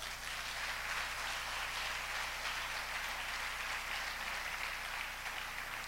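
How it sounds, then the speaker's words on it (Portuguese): Faint, distant applause from a Portuguese-speaking church congregation, a soft continuous hiss of many hands clapping that stays even and unbroken throughout. "Se quiser aplaudir, aplaude."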